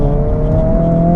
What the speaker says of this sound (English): if I give it throttle out of the corner